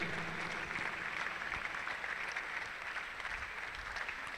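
Steady, even applause from an audience at a Microsoft Learn event in Akure, sounding as a dense continuous wash of clapping that holds at the same level from start to finish, with no voices breaking through.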